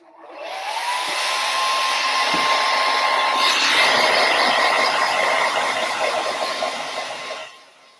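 A hair dryer drying a glitter acrylic keychain blows with a steady, loud whooshing roar that runs continuously for several seconds, then cuts off.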